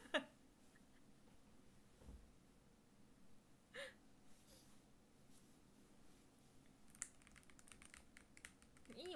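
Faint, scattered clicks of computer keys being pressed, sparse and irregular against a quiet background.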